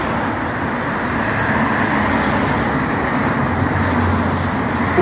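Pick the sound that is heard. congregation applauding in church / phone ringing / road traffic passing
road traffic passing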